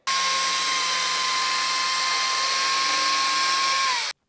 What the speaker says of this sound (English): I'm going to cut wood with the chainsaw